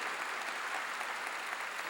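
Congregation clapping together during a Korean church sermon, a dense steady wash of applause filling the space from start to finish without a pause.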